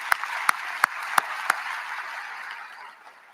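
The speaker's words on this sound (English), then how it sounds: "Give our state leaders a round of applause." Scattered audience applause for state leaders at the Atlanta mayor's State of the City address, with a few sharp nearby claps over a softer background clapping that gradually fades out.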